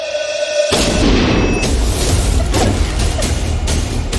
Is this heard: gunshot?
yes